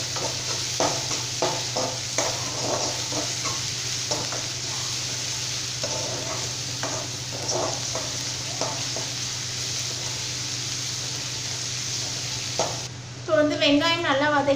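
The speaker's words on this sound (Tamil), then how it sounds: "இப்போ இது எல்லாமே சேர்த்து நல்லா வந்து நம்ம வதக்கி விட்டுக்கலாங்க" Onions and fresh curry leaves sauté in hot oil for tomato kulambu, a steady sizzle with repeated scraping strokes of a stirring spoon, close and continuous, ending with a brief clatter.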